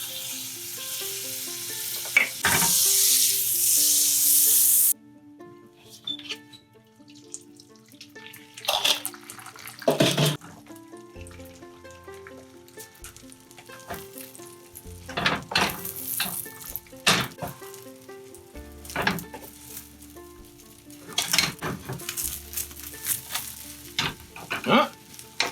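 Diced potatoes and black trumpet mushrooms fry in a pan for a home breakfast. A loud, steady sizzle fills the first few seconds, then softer crackling continues with scattered clanks and scrapes of stirring.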